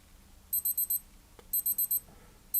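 Two quick sets of four sharp, high electronic beeps from a Casio DW-291H digital watch, spaced about a second apart, faint against a quiet background.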